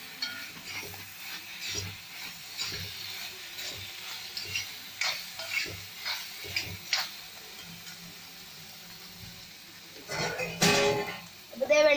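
Beef sizzles in coconut oil while a spoon stirs it, giving irregular scraping clinks and soft frying hiss at close range, with a louder scrape near the end.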